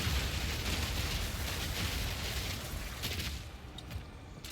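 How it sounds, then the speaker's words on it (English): Hammer crystals and armor explosions go off back to back in the video game Path of Exile 2, a dense, loud, continuous barrage of crackling blasts that eases off toward the end. "And then they got the hammer crystals triggering back to back with armor explosion."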